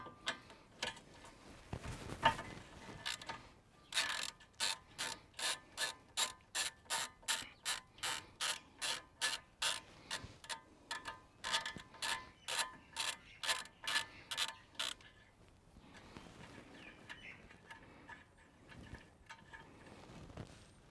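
A ratchet loosens the nut on a car's CV joint with a long run of sharp, evenly spaced clicks, close and loud, with quieter handling noise before and after.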